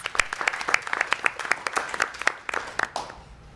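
Audience applause for new inductees at a 2019 National Honor Society induction ceremony, a dense patter of many hands clapping steadily at moderate distance, then thinning out toward the end.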